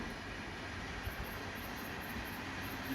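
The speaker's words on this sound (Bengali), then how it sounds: "ট্রেন যাচ্ছে।" A passing train rumbles steadily at a distance in an indoor home setting, a faint, continuous low roar with soft rattling and no voices over it.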